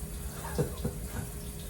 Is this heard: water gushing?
yes